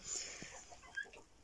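Cochin chickens cluck faintly in a coop, a couple of soft, short clucks over quiet background.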